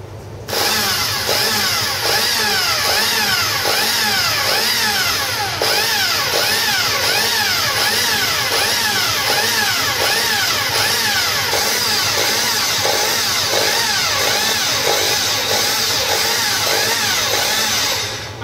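A hand-held electric drill runs steadily at full power while drilling into iron, a loud continuous motor whine with a rhythmic pulsing grind throughout, no speech.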